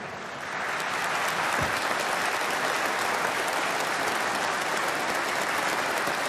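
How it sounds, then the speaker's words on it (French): A church congregation applauds at an Epiphany Mass, a dense, steady wash of clapping that fills the whole stretch at even loudness from start to finish. "Vous pouvez l'applaudir."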